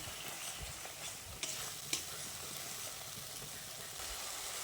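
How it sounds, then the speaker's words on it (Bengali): Kashmiri chili powder and turmeric stirred in a pan for a jackfruit curry, a steady soft scraping and sizzle with two brief sharp knocks of the spoon against the pan. "কাশ্মীরি লঙ্কার গুঁড়ো আর হলুদ গুঁড়োটা দিয়ে ভালো করে মিশিয়ে নিচ্ছি।"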